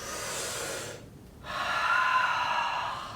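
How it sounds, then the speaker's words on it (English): A person takes a long, audible breath while holding a barre stretch, with a steady airy breath sound, a brief quiet gap, then a fuller, louder exhale. "Let's take a nice deep breath."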